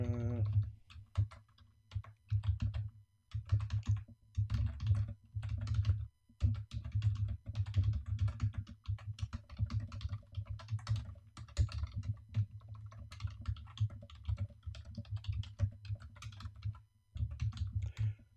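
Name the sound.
typing a prompt on a computer keyboard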